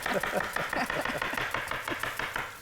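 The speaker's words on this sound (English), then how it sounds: "So look at the chopping technique." Rapid, steady knife chopping of food on a board, many sharp close strikes in an even rhythm, with no talk over it.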